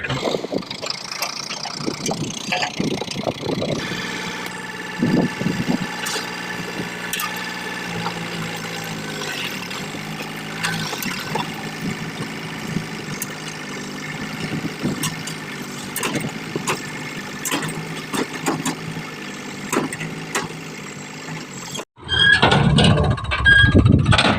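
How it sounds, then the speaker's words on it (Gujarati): A tractor engine idles with a steady mechanical hum and occasional squeaks and clanks, then cuts to a louder burst of noise at the end. "આ ટ્રેક્ટરને આપણે અહીંયા ખાલી કરવાનું છે"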